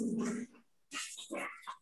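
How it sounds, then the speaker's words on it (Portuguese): Dogs whimper and bark close by in two short bursts of high, strained yelps and whines, with a brief quiet gap between them. "E chegaram os cachorros."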